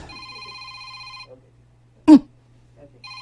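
A cellphone ringing with a steady electronic tone that stops partway through, followed by a short loud knock-like sound and then the ring starting again near the end.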